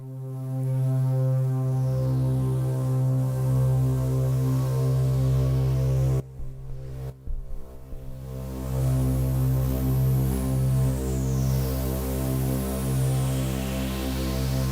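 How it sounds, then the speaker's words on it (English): A miRack modular synth on iPad holds a steady buzzing oscillator drone with a reverbed distortion and a hiss of white noise blended in. The drone breaks up briefly midway, then carries on unchanged. "And now we have a reverbed distortion, white noise, blending with our oscillator."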